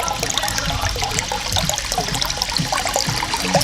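A Joule sous vide cooker circulates and heats water in a pot, producing a constant close splashing trickle like a running stream, loud and unbroken throughout.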